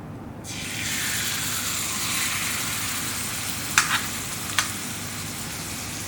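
Crumbed lamb rump in olive oil in a gently heated pan, a steady hiss of frying that rises as the meat goes in, with a couple of faint clicks and no voices.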